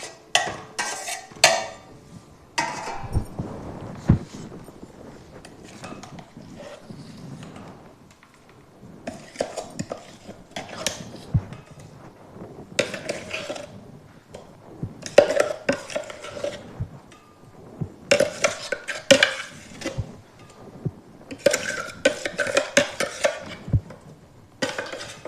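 Chutney ingredients for a ripe red chilli and amla pickle are mixed in a vessel, with bursts of spoon scraping, stirring and clinking against metal separated by quiet pauses.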